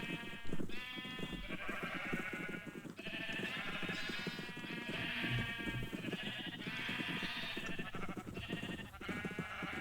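Sheep bleating close by, a continuous run of overlapping bleats from the animals in a pen, fairly loud and heard alone.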